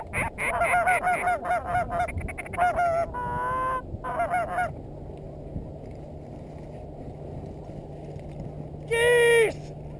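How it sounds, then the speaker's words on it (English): Loud, rapid honking from a flock of geese fills the first few seconds of a goose hunt near Calgary, then drops away to outdoor quiet before one last close honking burst; hunters' voices come through in places. "Geese!"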